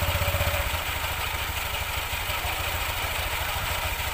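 A motorcycle engine runs steadily after a clutch spring and center spring replacement, a loud, close, continuous mid-pitched idle with a slight rhythmic clatter.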